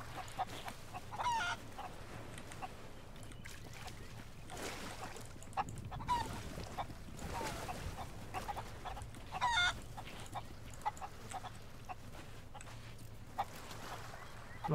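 Golden chicken in Sea of Thieves clucking and squawking in scattered bursts across a steady game ambience, with occasional honk-like calls and no talk.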